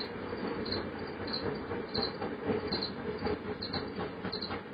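Steady chorus of crickets chirping throughout, with rhythmic rail clatter and train rumble running underneath.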